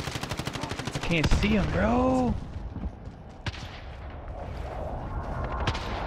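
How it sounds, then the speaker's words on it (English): Rapid automatic gunfire in Call of Duty Warzone, loud and close at first, followed by scattered sharper shots as someone speaks over the action. "He's shooting at me."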